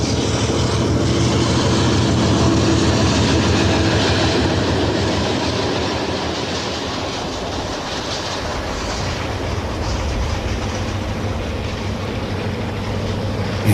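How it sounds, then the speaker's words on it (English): An Erie Lackawanna westbound train hauled by an RS locomotive rolls steadily past at close range, a loud continuous rumble of engine and wheels with faint rail clatter. "Another westbound with an RS."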